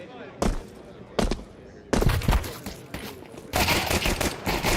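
Bursts of gunfire in Counter-Strike 2 during a competitive esports match, several sharp volleys separated by short gaps, loud and close, with a commentator talking over the shots.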